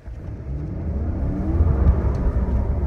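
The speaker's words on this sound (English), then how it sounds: "We're about to do some steezy donuts." A U-Haul GMC truck doing donuts, its engine giving a low steady rumble that swells slightly as it revs, close and moderately loud with no talking.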